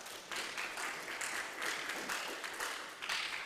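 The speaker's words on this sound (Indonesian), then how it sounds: "Terima kasih, tepuk tangan." A graduation audience at SMA Santo Yakobus applauds in a dense, even wash of clapping that swells and dips slightly, moderately loud and continuous without speech.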